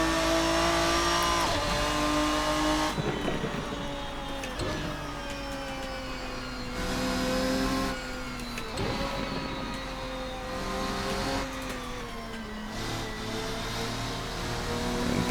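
Ferruccio 57 racing car engine in the Assetto Corsa sim, revving up and down through repeated gear changes, rising whines cut by shifts, loud and continuous with no talk.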